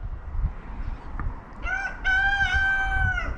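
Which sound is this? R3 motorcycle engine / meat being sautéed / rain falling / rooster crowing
rooster crowing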